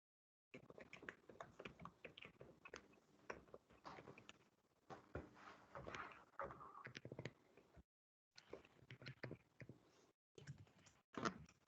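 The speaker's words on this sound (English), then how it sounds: "Lots of typing going on." Rapid keyboard typing during a prose extract lesson, a dense run of close, crisp key clicks in irregular bursts with a few short pauses.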